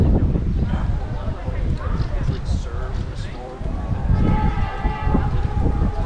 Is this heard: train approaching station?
yes